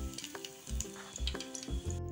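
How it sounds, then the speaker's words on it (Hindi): Paneer cubes fry in hot oil, a close bubbling sizzle with rhythmic clattering bursts from a utensil moving them about, over about two seconds with no voices. "पनीर को हम क्रंची होने तक फ्राई करेंगे। फ्राई हो गए हैं, अब हम इन्हें निकाल लेंगे।"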